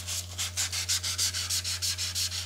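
Sandpaper rubbing the shaft of a kayak paddle to strip glaze before fitting a grip kit, in about a dozen steady back-and-forth strokes, close and clear over a low electrical hum.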